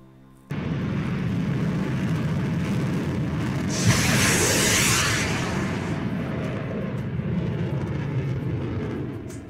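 An F-16 launching an AIM-120 AMRAAM missile: a sustained jet roar fills the air, with a sharp rushing whoosh surging up about four seconds in and then easing back into the steady engine rumble.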